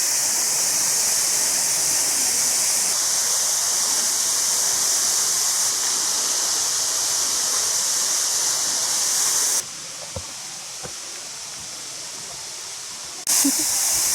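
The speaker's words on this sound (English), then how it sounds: "Here's the base of the waterfall, and I can actually feel the spray coming towards my face." Steady, loud roar of falling water at the base of a waterfall near Seattle, Washington, a broad hiss of spray that drops back briefly before swelling again, with no talking.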